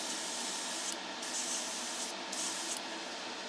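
Steady hiss of an airbrush spraying cellulose thinner, in two or three bursts with brief dips between, close and fairly loud, no voices.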